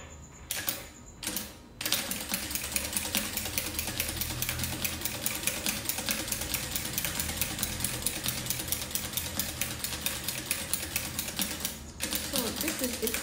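An industrial sewing machine with a buttonhole attachment stitches a buttonhole. Its rapid, even mechanical clatter runs almost continuously, with a brief stop near the start and another short pause near the end.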